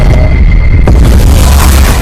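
A big explosion sound effect booms out loud and close at the start of a sudden blast, a deep rumble sustaining under a crackling burst for the full two seconds, with no talk.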